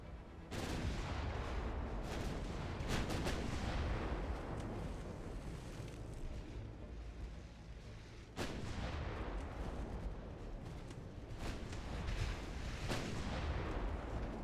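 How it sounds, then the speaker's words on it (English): Naval guns fire at a destroyer in the warship game Ultimate Admiral Dreadnoughts, heavy booming salvos that roll into a continuous dense rumble, with sharp blasts near the start and again midway. "You're firing at a DD."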